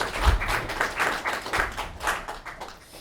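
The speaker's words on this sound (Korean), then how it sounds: "우리 뜨거운 마음을 담아서 박수로 감사합니다." A church congregation breaks into warm applause during a Korean Sunday worship service, with scattered, rhythmic clapping from many hands that fades slightly toward the end.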